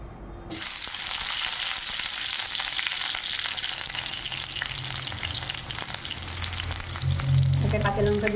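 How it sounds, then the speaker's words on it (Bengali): Onions sizzle in hot oil in a kadai for a spinach, potato and brinjal fry, a dense, constant frying hiss close by from start to finish, with a few low scraping knocks of a spoon near the end and no voices. "তেলটা গরম হয়ে গেছে, এবারে পেঁয়াজ দিয়ে দেবো।"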